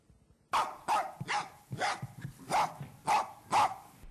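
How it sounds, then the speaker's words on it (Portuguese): A female dog named Laila barks insistently, about seven loud, close barks in a fairly regular rhythm after a brief quiet start, with no voices over them. "Foi o latido insistente da cadela Laila que acordou a família"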